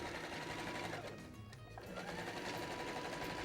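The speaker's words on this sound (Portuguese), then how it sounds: "tá vendo como a máquina vai puxando?" A sewing machine stitches pinned fabric for a watermelon pencil case in a continuous, close, steady mechanical hum that briefly dips in intensity midway before resuming at full pace.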